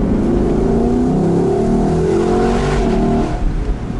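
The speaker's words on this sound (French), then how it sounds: "Et là écoutez, rétrogradage en 2. Petit coup de gaz" A Lexus LC 500 convertible drops into second gear with a blip of throttle and revs hard, harmonic tones climbing and falling, loud and close with no talking.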